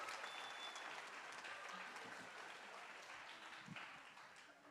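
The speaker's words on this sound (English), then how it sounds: "Can we give a round of applause to our cheer squad there?" Commencement crowd at Kapi'olani Community College giving the cheer squad a round of applause, a broad, sustained wash of clapping in a large space that slowly tapers off.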